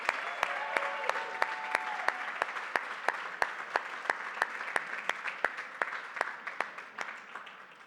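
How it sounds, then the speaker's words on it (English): A roomful of people at a charity gala applaud steadily, a dense wash of clapping with a few sharp close claps standing out, gradually fading toward the end. "a round of applause to all of the generous donors tonight"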